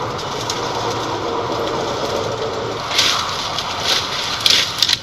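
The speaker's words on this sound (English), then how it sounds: "I love just plowing right through the weeds with the other truck." A 1970s Ford Ranchero 4x4 junkyard truck rolls through weeds with a steady low engine drone and brush noise, with a few brief louder rustles and thumps toward the end, no talking.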